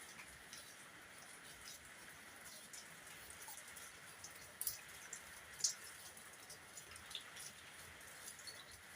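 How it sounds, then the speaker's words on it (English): Light rain falls steadily outdoors as a soft, even hiss, with occasional louder drips and taps standing out. The sound is faint and there are no voices. "It's raining, and we thank God."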